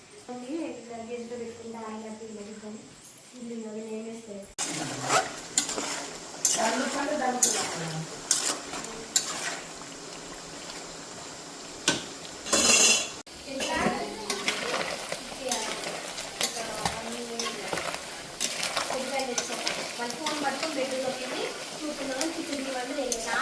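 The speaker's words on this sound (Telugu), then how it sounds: "ఈ విధంగా ఒకసారి మంచిగా వే మంచిగా వేగేదాకా మనం జాగ్రత్తగా కలుపుకుంటూ ఉండాలి" Gongura greens fry and sizzle in a pan as a spoon stirs them steadily, with scraping and clinking against the metal over a continuous hiss; someone talks at the start, and faint background sounds continue throughout.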